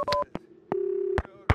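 A telephone is dialed in the video game Max Payne 2: a few short electronic key tones and a longer steady tone, separated by brief pauses, clear and close.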